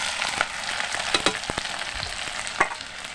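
Onion, chilli and garlic sizzle and crackle steadily in a hot pan, with a few sharper pops and spatula scrapes over the dense frying hiss, close and fairly loud.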